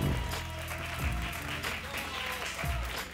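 An audience at a Kansai regional rap battle contest applauds the MVR winner, with clapping running steadily through, swelling at moments, and music and some voices underneath.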